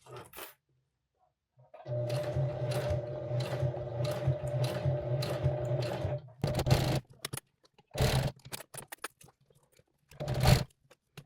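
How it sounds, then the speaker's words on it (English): A sewing machine runs steadily for several seconds, putting a single stitch down the edge binding of a large taco pouch, followed by a few shorter mechanical bursts and clatters near the end. "you can take her over to the sewing machine and you're going to put a single stitch down each side"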